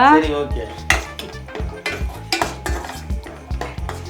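Cashews and raisins fry in a pan for kesari while a metal spoon stirs, the clinks and scrapes of utensil on cookware prominent and rhythmic over a faint background sizzle.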